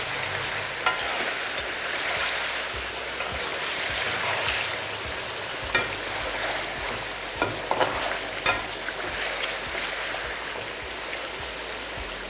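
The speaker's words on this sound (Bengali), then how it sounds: "এইটাকেই বলা হয় কিন্তু ফ্ল্যাশ ফ্রাই" Chicken flash frying in a pan for a Bihari-style chicken masala, a continuous hissing sizzle with occasional sharp clinks of a spatula, steady and close, no talking.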